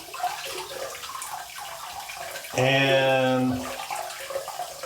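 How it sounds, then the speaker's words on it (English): Hot tap water runs briefly into a bathroom sink to rinse and warm a razor before shaving with a shave stick, a steady close rush lasting about a second amid light background noise. "rinse it in the sink just to bring it to temperature"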